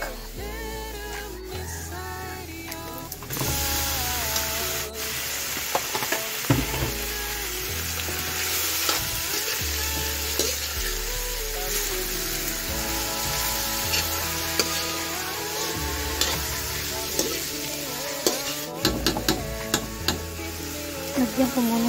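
Pork frying in a pan for adobo, a steady loud sizzle close by with repeated stirring and scraping, and occasional clatters of a utensil against the pan.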